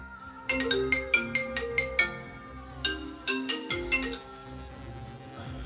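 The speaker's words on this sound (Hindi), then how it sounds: "किसका फोन आ रहा है बार बार?" A phone ringtone plays a repeating run of bright chiming tones, pausing briefly, then resuming for a second burst before fading.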